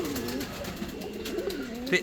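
Lead-coloured Andalusian pigeons give repeated rising-and-falling coos nearby, a run of throaty calls heard alongside someone talking.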